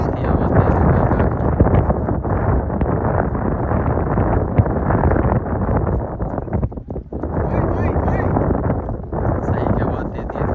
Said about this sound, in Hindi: तुरंत ही हवा तेज़ हो गई है